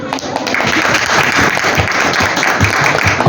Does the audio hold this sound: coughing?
no